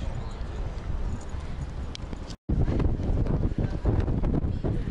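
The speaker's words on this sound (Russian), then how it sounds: "Какой ветер-то?" Heavy wind buffets the microphone with a continuous rough rumble and crackle, cutting out briefly midway before the gusting resumes.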